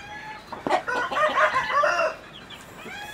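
A chukar partridge hen clucks close by while her chicks peep in quick, high chirps, a busy cluster of calls that fades near the end.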